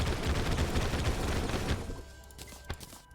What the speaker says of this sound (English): one use of the weapon will unleash an energized explosion